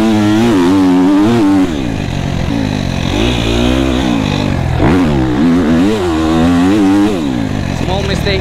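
A motocross motorcycle revs and surges around a field track, its engine pitch rising and falling through repeated throttle bursts, loud and close, with a rider talking over it throughout.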